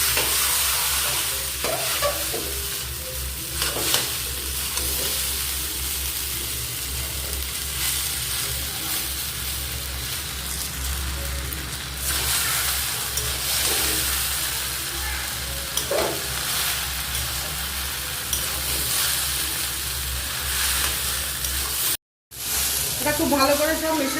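Chow mein noodles are stirred and tossed in a sizzling frying pan, with steady loud hissing and repeated scraping and clattering from continuous mixing, plus a brief cut near the end.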